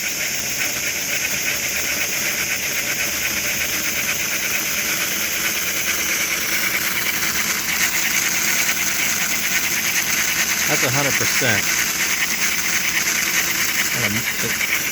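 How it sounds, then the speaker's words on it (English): A small model steam engine hisses and chuffs in a steady rapid rhythm with a mechanical rattle throughout; a voice speaks briefly over it near the end. "The engine's making more rattling noise than the chuff sound, but the chuff never dies."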